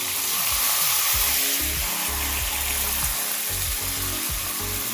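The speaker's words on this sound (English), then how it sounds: "So what I'll do now, guys, I'll add some water" Water hits a hot pot of browning lamb for stew and sets off a loud, steady, close sizzle and hiss that continues throughout, with no talking.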